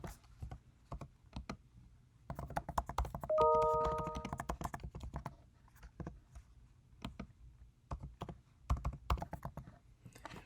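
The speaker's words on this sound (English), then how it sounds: "we would just start typing here." A headline being typed on a computer keyboard, with quiet, close key taps in irregular bursts and short pauses between them in an otherwise still room.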